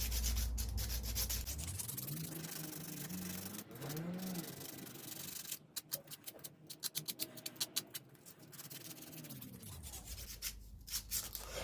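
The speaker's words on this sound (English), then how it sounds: "I'm just going to give it a little sand all the way around just to smooth it off" Hand sanding around the edges of a custom Gibson Epiphone Les Paul guitar body, a steady close rubbing scrape that breaks into a run of short, rhythmic strokes, then settles back into continuous abrasion.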